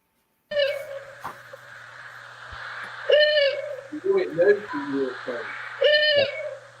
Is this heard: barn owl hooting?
yes